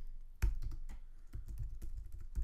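Keys on a computer keyboard are tapped in a quiet room, a short uneven run of soft clicks with brief pauses between them.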